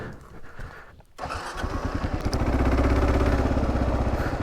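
A Kawasaki KLR650 single-cylinder motorcycle rides off-road in gear, its engine note close and steady, swelling into a loud, even rumble as it pulls along a dirt route.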